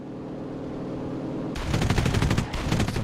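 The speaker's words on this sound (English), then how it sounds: "Some shots coming from there" Rapid gunfire in the Enlisted shooter game, a dense automatic burst that starts partway through, stops briefly, then resumes, loud and close over a steady background rumble.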